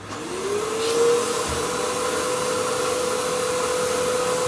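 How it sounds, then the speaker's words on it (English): A vacuum cleaner switches on, its motor whining up in pitch and then running in a steady loud roar close by. "Have a working vacuum cleaner. I turn it on to see."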